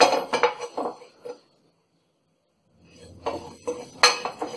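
Moong dal batter is stirred in a pan with a metal utensil, giving clinking and scraping strokes in two bursts separated by a short silence.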